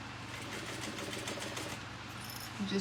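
A sewing machine runs steadily at a slow, even pace, stitching a seam through waterproof canvas, its rapid needle thumps forming a continuous close whir with no speech.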